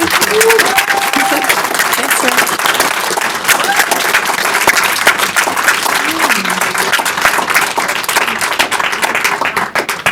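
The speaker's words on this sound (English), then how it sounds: "Let's have a warm round of applause for Mara." Audience at a book launch event applauds the author, loud continuous clapping from a crowd that stays steady throughout, with faint voices beneath.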